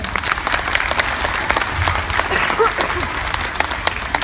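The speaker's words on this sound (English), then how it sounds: "Can we give her a big round of applause?" A school assembly audience of young children and staff claps in sustained, dense applause, loud and even from start to finish.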